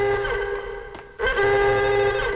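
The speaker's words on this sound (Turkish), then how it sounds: "Bu telefon çalıyor." A telephone rings inside the Max Payne video game, a steady electronic trill with a brief break before the ring resumes, close and fairly loud over soft in-game background noise.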